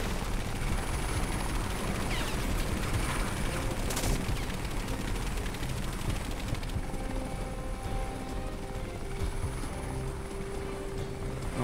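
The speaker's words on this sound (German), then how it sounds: "Ist ein verkackter Hubschrauber." Video-game helicopter from Crysis, a steady rotor drone that fills the whole stretch at constant loudness, mixed with ambient game noise and no talking.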